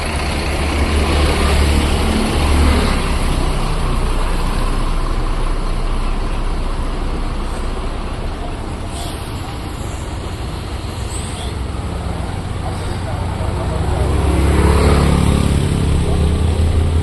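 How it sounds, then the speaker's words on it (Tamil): Busy road traffic with cars, trucks and motorcycles, a continuous roar of engines rising and falling as vehicles pass, with occasional revving and a horn-like tone, loud and near. "அண்ணா டிராஃபிக் தானே, வேற ஒன்றும் இல்லை."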